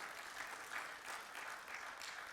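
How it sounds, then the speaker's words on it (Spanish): A church congregation applauding during a sermon, a steady wash of many hands clapping with soft swells in intensity, heard alone without speech. "dale el aplauso, él lo merece."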